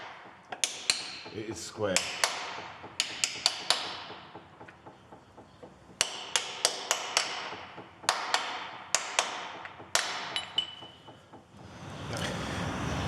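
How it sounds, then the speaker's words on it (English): Tapping a drive shaft intermediate bearing into place on a right-hand Citroen C15, with repeated sharp metallic taps in clusters and short pauses between them, close and loud, with brief talk. "now we can start tapping it in"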